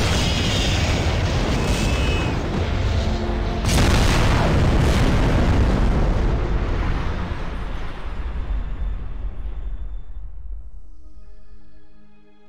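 A starship explodes in the space combat game Bridge Commander with a loud, deep boom and a sharp burst, followed by a long roaring rumble that slowly fades away into quiet.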